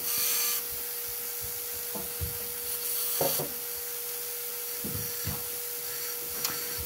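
A steel file rasps by hand across a forged full tang knife blank, a run of irregular scraping strokes at moderate level with a steady background hum and no voices.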